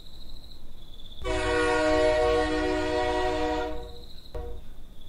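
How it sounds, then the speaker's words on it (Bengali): A cartoon train pulling into a station sounds a long, loud, steady whistle for about two and a half seconds, with a high ringing tone before and after. "কিছুক্ষণের মধ্যে হুইসেল বাজিয়ে একটা ট্রেন স্টেশনে ঢুকতে শুরু করলো"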